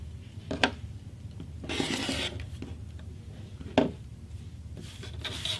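Quilt fabric folded on a drawn line is trimmed, giving soft close scraping and rubbing strokes in short bursts, quiet and without speech.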